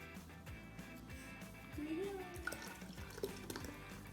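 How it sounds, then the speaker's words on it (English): A dry active yeast and water mixture is poured into a pumpkin, with soft dripping and trickling liquid close by at low volume and faint background sounds. "Now Corban is going to pour the dry active yeast and water mixture into the pumpkin."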